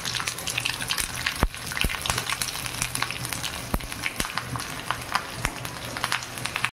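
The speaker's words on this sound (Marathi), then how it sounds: "बघा, छान तडका आलेला आहे।" Mustard seeds and green chillies crackle and sizzle in hot oil for a tempering, a steady close frying hiss punctuated by sharp pops and spits, with no one speaking.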